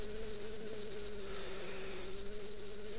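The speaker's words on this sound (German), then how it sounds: "Eine Biene." A bee or wasp in the Zelda game Majora's Mask buzzes continuously at low volume, a steady droning hum lasting the whole stretch with no speech.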